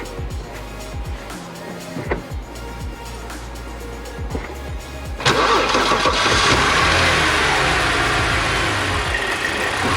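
A BMW 330xi engine cranks with a few starter turns, then fires at about five seconds into a loud, steady running roar that holds close and constant to the end.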